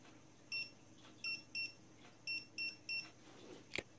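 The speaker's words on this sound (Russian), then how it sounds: "Количество пиков будет сигнализировать о силе разряда, выставленной на ошейнике." Short high electronic beeps come from a Dogtrace D-fence 1001 electronic dog fence collar, signalling its shock level. They sound in groups of single, paired and triple pips, close and clear over quiet room hiss, with a sharp click at the end.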